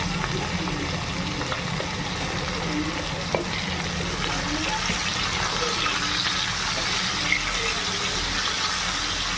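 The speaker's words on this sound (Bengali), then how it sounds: "সব কিছু ভালো করে একটু মিশিয়ে নেব" Fried potatoes being stirred in hot oil in a pan, with salt added, continuous steady sizzling and scraping with occasional sharper clicks, close and fairly loud throughout.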